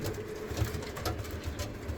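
Young racing pigeons coo in a loft, soft low murmuring calls repeating steadily through the clip at close range with no talk.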